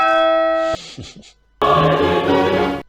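A bright electronic chime rings and cuts off, followed by a brief fluttery jingle and then a louder, fuller bell-like notification tone that fades out.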